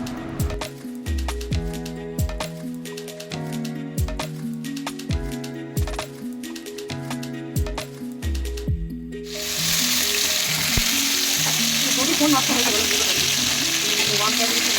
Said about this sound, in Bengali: তারপরে একটু পটল ছেড়ে দিচ্ছি রাঙা আলু ছেড়ে দিচ্ছি দিয়ে সব ভাজাগুলো একে একে করে নিচ্ছি